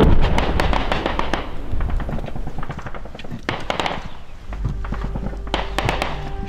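Rapid bursts of gunfire crackle close by at frontline positions near Bakhmut, in irregular volleys of sharp cracks, with a lull in the middle before more shots ring out.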